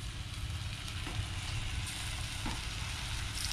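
Takoyaki batter sizzles and bubbles steadily in a hot pan over high heat, a close, continuous frying crackle with no talking.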